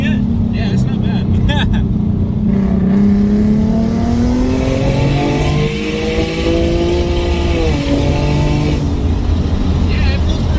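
A Ford S197 Mustang with a V6 turbo kit accelerates hard, the engine note rising steadily through the gear loudly and up close from inside the car, with voices talking over it.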